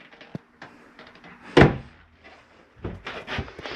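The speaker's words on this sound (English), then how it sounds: "make sure you have your shower door snap closed for travel." The shower door in a 2011 Keystone Laredo 293RK travel trailer bathroom snaps shut with a single sharp, close knock, with soft handling noises and rustling before and after.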